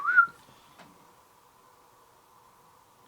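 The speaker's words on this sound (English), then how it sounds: "Do you hear a whistle?" A short, clear whistle sounds from outside an old inn at night, followed by a faint steady tone and near silence.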